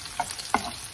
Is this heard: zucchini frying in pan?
yes